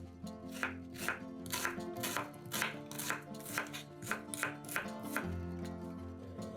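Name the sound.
dicing an onion with a knife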